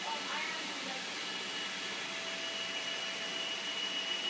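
A household vacuum cleaner runs with a steady, even whine and rush of air that stays constant and fairly close throughout, with no break in the motor noise.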